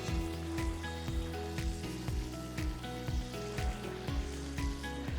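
Chicken malai keema cooks in a pan, a soft steady sizzle beneath a repeating rhythmic background beat of music, fairly faint and even throughout.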